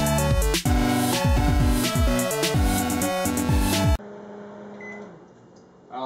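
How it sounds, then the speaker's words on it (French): A microwave oven running its popcorn program gives off a low, steady hum, faint and close, after a stretch of loud music that cuts off abruptly. "Faites juste le mettre dans le micro-ondes."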